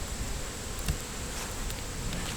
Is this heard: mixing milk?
no